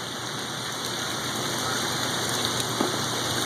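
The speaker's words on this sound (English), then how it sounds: "Pouring down rain." Heavy pouring rain falls in a backyard as a steady, dense, loud hiss that holds without a break, with a few faint drips and knocks close by and no voices.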